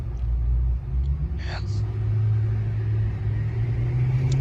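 A car engine rumbles steadily and loudly as it is driven fast around a parking garage, a continuous low drone with a brief breathy sound partway through.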